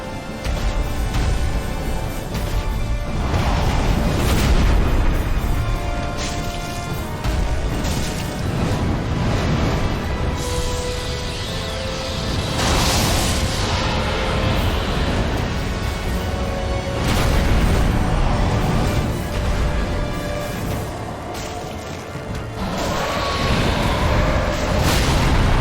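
Fire attacks roar and explode in Dark Souls 3, a dense, continuous rumbling blaze with swelling booms that stays loud and thick throughout, with no voices.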